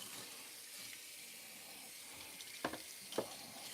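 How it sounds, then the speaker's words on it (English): A dish is rinsed under running tap water at a sink, a quiet steady trickle with two brief splashy bursts near the end. "I'm going to take my dish and I'm going to rinse everything off here."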